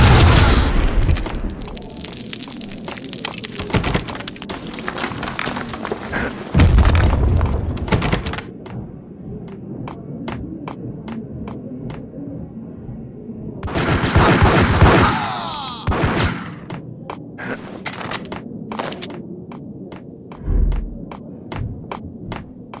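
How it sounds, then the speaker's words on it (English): Loud bombing explosions and rapid volleys of gunfire in the Max Payne video game, set over a constant booming rumble. Bursts of shots come and go in clusters, and heavy blasts flare up twice. "They're bombing us!"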